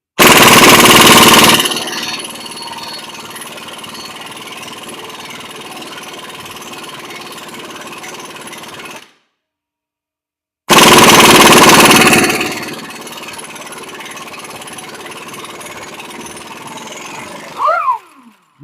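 Impact gun working on the 27 mm crankshaft bolt of a 2008 BMW 650ci engine, loud rapid hammering bursts that stop, fall silent, then return briefly before a short squeal at the end.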